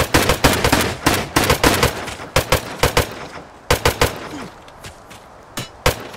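Gunfire from the Rust video game: rapid bursts of sharp, loud shots, close and punchy, clustered in quick volleys with brief gaps, the last few shots sparser, with no talk over them.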